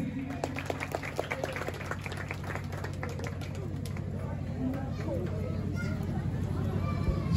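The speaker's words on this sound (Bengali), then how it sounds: "সবাই একটু হাততালি দেবেন প্লিজ।" Scattered hand claps from an audience at a Karam Puja ceremony, sounding as sparse, uneven claps that fade under an announcer's amplified voice and a steady hum.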